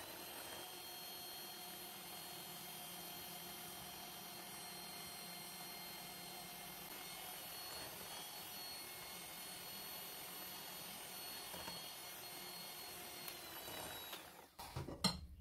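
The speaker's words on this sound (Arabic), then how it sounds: "انا غادي نبدا نزيد في الزيت غير بشويه بشويه، وانا كنطرب باش ما يتهرسش البيض" Eggs whisked with an electric beater while oil is trickled in slowly for an apple and nut tart batter, giving a faint, steady mechanical whine that holds unbroken throughout, with no voices.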